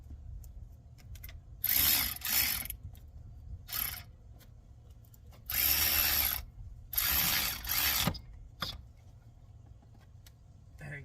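A ratchet tightens a 14 mm bolt on a 2003 Mazda Protege, clicking in several close bursts of quick rapid strokes separated by short pauses, loud against a quiet garage background.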